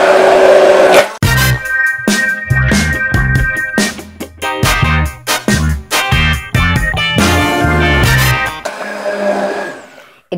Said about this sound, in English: I'm going to puree the silken tofu with the immersion blender.